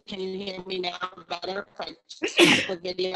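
A single sharp sneeze bursts out in the middle of a remote public health board meeting, loud and sudden among stretches of a person talking before and after it.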